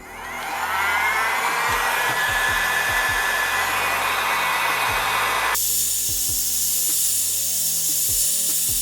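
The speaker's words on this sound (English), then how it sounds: "For this I will use heat gun with around 180 degrees for, let's say, maybe 1 to 2 minutes." A heat gun set around 180 degrees blows hot air onto the back cover of a Huawei Y70 Plus phone, a loud steady whooshing hiss that starts abruptly and holds, its tone shifting partway through, with faint clicks beneath and no talk.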